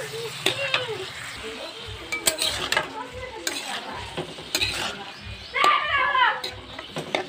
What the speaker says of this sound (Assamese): এতিয়া মই বুটখিনি ভাজি লওঁ